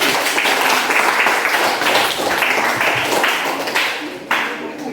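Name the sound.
class applause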